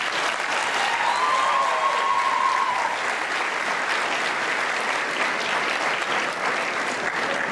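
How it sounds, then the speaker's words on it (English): Sustained, dense applause from a large graduation audience honoring family members, loud and steady throughout, with a crowd murmur mixed in and no clear speech on top. "Class of 2019, please give all of your family members a huge round of applause."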